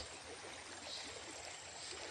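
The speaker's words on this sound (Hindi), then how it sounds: "इधर ये पानी जा रहा देखो" Water flows through a small village drain, a steady, rushing wash of running water at close range, continuous and even, with no talking.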